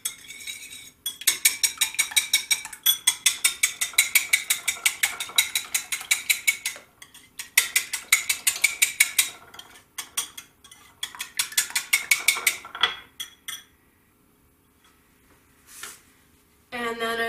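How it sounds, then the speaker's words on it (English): Eggs are whisked in a bowl in quick, rhythmic metallic clicking bursts of several seconds each, with short pauses between bursts, before the whisking stops and the room goes quiet. "And we'll whisk them."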